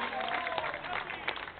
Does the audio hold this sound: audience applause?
yes